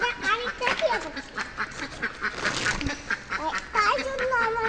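Ducks quacking close by in a backyard with domestic birds, a run of repeated nasal quacks overlapping each other while a person talks over them.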